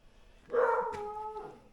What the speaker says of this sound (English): Oh, the dog is making noise.